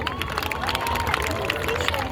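Celebration at a governor's house in Sindh, with a large audience giving dense, continuous applause and crowd noise mixed with cheering and babble, steady and loud throughout.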